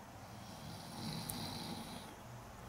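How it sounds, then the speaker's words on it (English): A bear snoring outside behind a home, a low, soft rumbling breath rising to a slightly louder swell in the middle, faint and distant with steady background hiss. "He's snoring."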